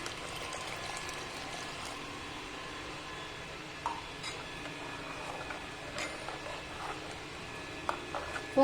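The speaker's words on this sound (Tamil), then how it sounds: "இன்னொரு 1/2 கப் தண்ணி ஊற்றிக்கலாம்." Water poured into a pot of simmering veg salna on the stove, a faint continuous trickle and splash with a few light clinks of utensils against the pot.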